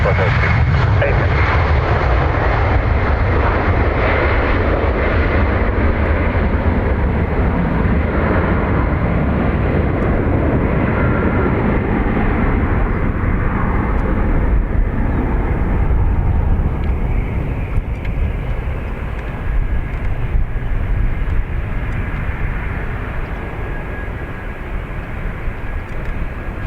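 A jet airliner roars past on Dublin Airport's north runway, a loud sustained engine rumble that slowly fades as it moves away, with radio voices talking over it.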